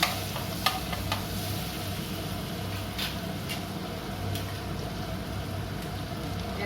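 A spoon stirring butter in a pan while cooking fried chicken, with steady soft sizzling and a few faint scraping clicks against the pan, continuous and close.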